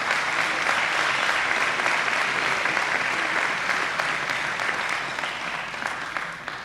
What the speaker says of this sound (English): Let's have a round of applause for Alex and Gladys.